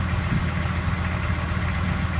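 A farm tractor with a seeder just hitched to it idles in a steady low rumble, close and even, with no one talking.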